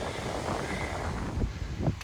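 Cold, strong wind at about 45 degrees buffeting the microphone on the high overlook atop the 1,000-step stair trail at Mapleton Overlook, a continuous low roar with gusty thumps throughout.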